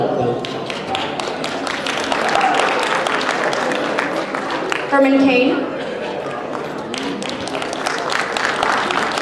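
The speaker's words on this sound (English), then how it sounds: "Please welcome, with a big applause, Mitt Romney" Televised presidential primary debate audience applauding steadily as candidates are introduced onto the stage, a dense sustained wash of clapping under an announcer's voice reading names.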